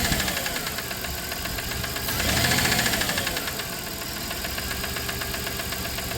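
A 1997 Dodge Caravan LE engine idles with a worn rod or pushrod, a steady mechanical running with a fast rhythmic knocking tick. It swells briefly louder, then settles back to a constant close idle.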